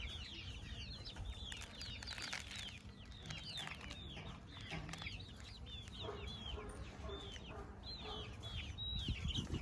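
Hungry chickens cluck and squawk together on a farm, a continuous busy chorus of short chirpy calls that sounds fairly close.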